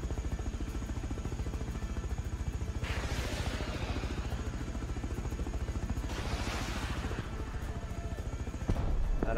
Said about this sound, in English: It's too hard to shoot down the heli.